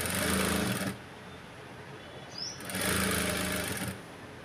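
A sewing machine stitching slippery silk blouse cloth runs in two steady bursts of fast, buzzing mechanical whirring, separated by a brief quieter pause, close and clear with no talking.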